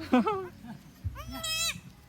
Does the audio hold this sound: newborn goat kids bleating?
yes